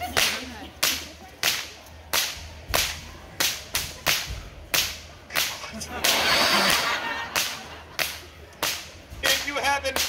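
Musical whips cracking at a Renaissance faire performance, a steady series of loud, sharp cracks spaced roughly every half second, with a brief burst of crowd noise midway and more cracks at the end.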